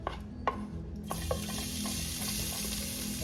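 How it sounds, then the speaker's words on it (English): Garlic sautéing in oil for Filipino chicken noodle soup, a steady close sizzle that flares up after a quiet second, with a few light utensil clatters over it. "So now, I think we have enough oil to start sauteing now."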